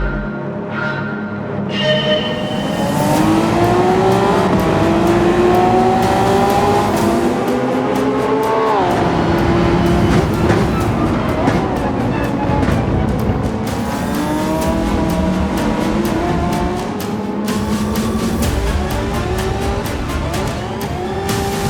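Several race cars in Gran Turismo launch at the start of a race, engines roaring loud and continuous with rising and falling pitch as they shift, plus brief tire squeal, with no talking.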